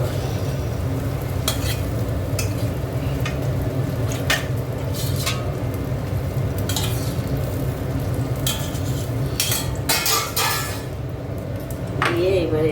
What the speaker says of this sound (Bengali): এবার এটাকে ভালো করে একটু নাড়াবো।